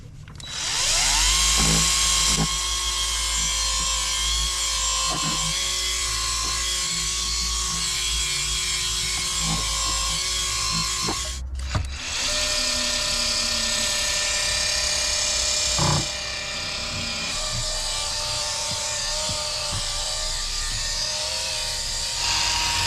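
Cheap Amazon machine polisher running on car paint with an ultra fine compound, a steady high electric whine with a low motor hum that holds for most of the stretch, pauses briefly, then starts up again, close and alone.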